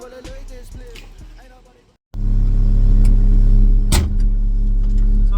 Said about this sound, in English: Let's take the Mini for a test drive.